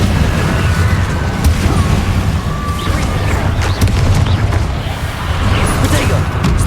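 Blasting fire spells boom repeatedly in Hogwarts Legacy, a dense wash of low rumbling impacts and crackling bursts running steadily throughout, mixed with other spell effects and game noise.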